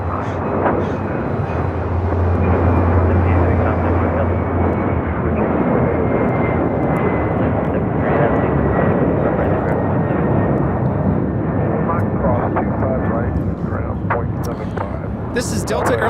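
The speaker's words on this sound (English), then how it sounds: "This is Delta Airlines 678 taking off to JFK on a 767 300ER" A Delta Airlines Boeing 767-300ER takes off from LAX, its jet engines a loud, steady roar that holds throughout, with a brief voice near the start.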